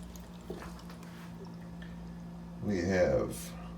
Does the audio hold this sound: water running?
yes